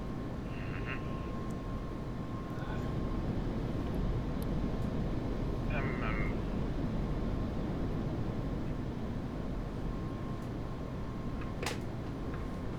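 The F-5E Tiger II jet's engine holds a steady, broad roar inside the DCS flight simulator, with brief cockpit beeps and clicks over it.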